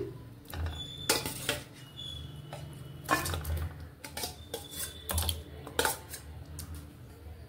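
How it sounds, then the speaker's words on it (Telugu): Half a kilo of chicken going into a heavy-bottomed pan on a gas stove for gongura chicken pickle, heard as a few quiet, scattered clanks and soft thuds of pieces hitting metal, with no talking. "ఇప్పుడు హాఫ్ కేజీ చికెన్ గిన్నెలో వేసేస్తున్నాను"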